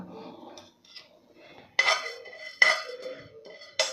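A spoon stirs melon seeds roasting in a pan, making light scraping that breaks into several sharp metallic clinks against the pan, close-up and with no talk.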